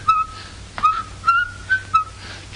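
Someone whistles in imitation of a steamboat whistle, giving five or six short, clear, bright toots in a steady rhythm against a low background hum.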